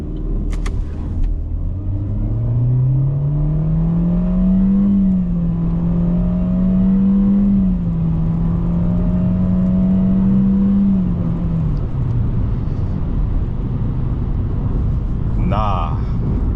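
A Chevrolet Spark accelerating hard on an empty road, its engine drone climbing steadily in pitch, holding high and strained for several seconds, then easing off near the end, loud and close from inside the car.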